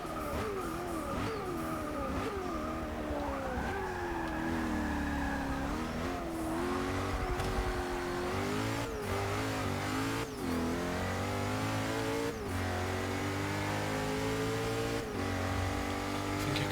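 Race car engines howling around Spa in Forza Motorsport 6, a continuous loud engine note rising and falling through gear shifts, with brief tire squeals and layered cars nearby.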